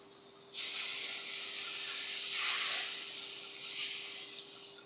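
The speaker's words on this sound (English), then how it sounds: "Next, I got some Pinot Grigio wine. We're going to throw this right in." Pinot Grigio wine hits a hot pan holding capers, bursting into a loud, steady hiss of sizzling steam that swells and lingers for several seconds with no talk over it.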